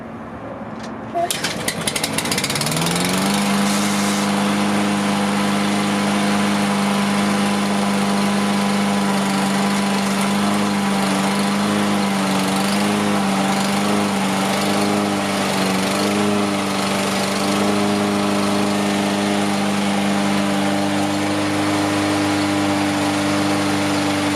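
A Toro all-wheel-drive lawn mower, under repair and maintenance, starts up, then settles into a loud, steady small-engine drone close by. The pitch wavers slightly as it idles on and on, with no talking over it.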